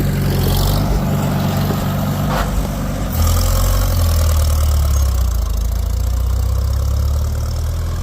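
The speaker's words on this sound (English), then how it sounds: "Burns a little oil, but it's at least running in road gear." A Farmall Super M tractor engine that burns a little oil runs in road gear, a loud, close, steady low rumble whose pitch drops and deepens after a few seconds.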